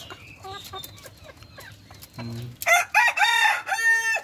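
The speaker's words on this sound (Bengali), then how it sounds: "একদম ঘাটি দেশাল মোরগ আর মুরগি।" Caged local desi hens cluck in short bursts, then a rooster lets out a loud, close crow in several stretched, rising calls.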